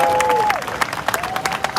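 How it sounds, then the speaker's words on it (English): A crowd at an outdoor reparations rally claps steadily, a dense patter of hands with scattered louder claps, while a tonal whistle or siren-like tone rises and falls over it. "Clap it up, everybody."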